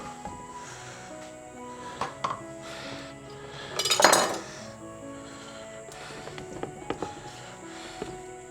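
Potatoes tipped into a pot of stewing creamy chicken ragout give a short clattering burst of clinks and knocks, with scattered utensil taps against the pot before and after, fairly quiet and close.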